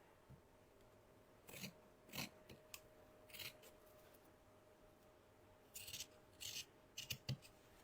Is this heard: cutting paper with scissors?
yes